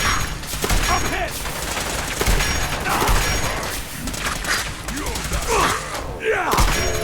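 Rapid gunfire from the video game Fallout 4 crackles in dense overlapping bursts, with thumps and booms, while voices talk and shout over the shooting.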